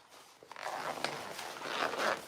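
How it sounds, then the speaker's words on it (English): A zipper on a sewn bow fanny pack is pulled apart in short ripping bursts, close and crisp, building to a longer rasping pull near the end. "we are gonna have to take this zipper apart to top stitch"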